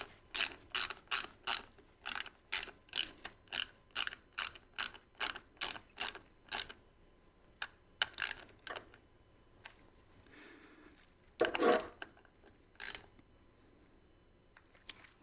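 A ratchet tightens a fastener on a lithium battery box, giving a quick run of sharp, close clicks in a steady rhythm, then a pause and a few more scattered ratcheting clicks near the end.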